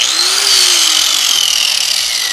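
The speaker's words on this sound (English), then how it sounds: "And then I'm gonna just make sure this grinder works." An angle grinder is switched on to test it while a concrete side table is being built: a loud, close, continuous high-pitched whine with a gritty edge, running steadily for about two seconds.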